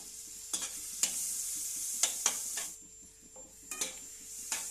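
Whole spices (cardamom, cinnamon, bay leaf) frying in butter for butter paneer masala, a steady soft sizzle with several sharp scrapes and clinks of a spoon stirring in the pan, close by.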